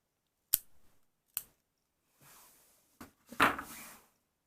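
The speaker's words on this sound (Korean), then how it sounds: "그냥 자르는 것보다는 아주 살짝만 당겨준 상태에서 그때 여기를 바짝 잘라주세요" Scissors snip crochet yarn in a handful of separate close cuts, sharp clicks of the blades with soft rustling between them, no voices.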